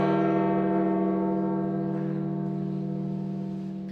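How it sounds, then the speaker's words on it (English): A bronze church bell at the Vatican overlooking St. Peter's Square tolls for the death of Pope Francis, one long resonant stroke ringing out and slowly decaying, loud and alone with no talk. "The Vatican's bronze bell that overlooks St. Peter's Square rang out Monday to mark the death of Pope Francis."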